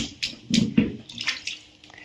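Water splashes on a wet, slippery floor in a few quick, close slaps and spatters, then trickles off quietly.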